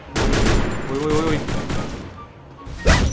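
Rapid bursts of gunfire ring out in the mobile shooter Free Fire, loud and clustered with a fresh volley near the end, while a player talks over the shooting.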